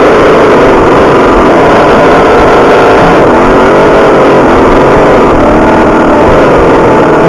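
A Little Demon engine runs hard and close, giving a loud, steady, buzzing drone with a rough, gritty texture and no clear change in speed.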